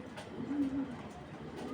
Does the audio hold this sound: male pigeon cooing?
yes